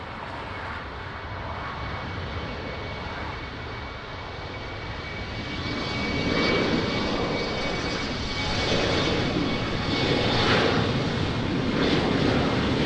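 A Portugal 992 airliner takes off from runway 20 at Lisbon Airport, its engines a broad, steady roar that swells and grows louder midway as it accelerates, continuous and unbroken, heard from a distance.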